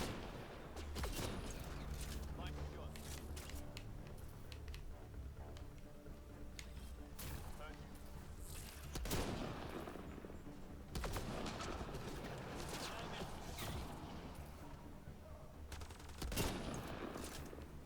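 Rifle fire rings out in the Mass Effect Andromeda video game, with sniper cracks over a dense, continuous din of battle gunfire and a few louder sharp shots standing out.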